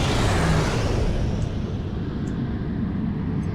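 Slipstream drive engaging aboard a starship in Star Trek Online: a loud, steady roaring whoosh with a deep rumbling low end that holds unbroken from start to finish, with no voices.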